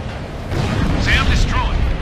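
A SAM site is destroyed in Ace Combat Infinity, the explosion a deep, rumbling boom that swells over two seconds beneath jet engine roar, while a voice speaks briefly over it.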